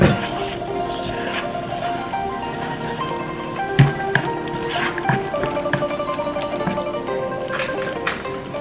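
Water poured into a pan of Thai green curry, a continuous liquid pouring and sizzling wash with a few clinks, steady and close throughout.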